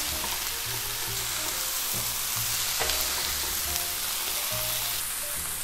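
Pork and onion fry steadily in a hot pan for spicy Korean pork bulgogi, a continuous loud sizzle with occasional stirring scrapes and no talking.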